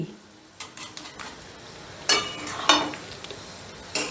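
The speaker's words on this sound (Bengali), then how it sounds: "ঘি গরম মশলা দিয়ে আবারও আমি রান্নাটা বেশ ভালো করে মিশিয়ে দিচ্ছি" A spoon scrapes and clinks against a pot while soybean, potato and pointed gourd curry is stirred with ghee and garam masala, giving several sharp close knocks and scrapes spread across a few seconds over low kitchen background.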